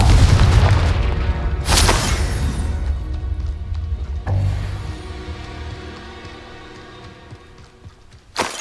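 A Confringo fire spell detonates in Hogwarts Legacy, a loud booming blast near the start with a second burst around the middle, each trailing into rumbling debris and a fading reverberant tail.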